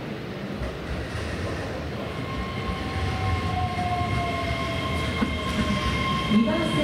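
A Keihan train rumbles steadily into Kyobashi Station in Japan with a rising mechanical hum, a faint brake squeal and clacking wheels near the end, loud and close throughout.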